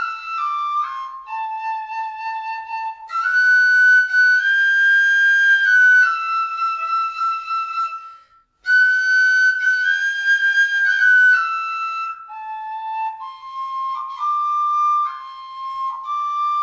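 A tin whistle plays a melodic tune of clear, sustained high notes with smooth slides between pitches, loud and solo with a brief pause midway.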